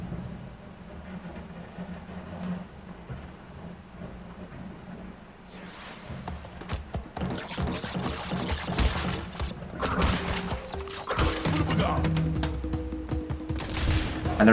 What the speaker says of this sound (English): the smashing glass sound you can hear in the background, because the recycling truck's just outside at the moment